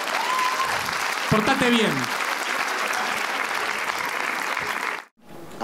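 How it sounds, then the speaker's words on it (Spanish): Studio audience applauding on a TV talk show, a loud continuous wash of clapping under a man's brief speech and a whistle-like voice, ending with a sudden cut. "Por eso la aplaudieron todos a ella."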